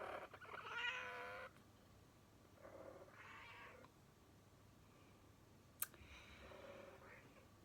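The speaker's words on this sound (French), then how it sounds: "mon chat a ses chaleurs" A female cat in heat yowls in several separate drawn-out cries over a steady low room hum, close but moderately quiet, with a sharp click between calls.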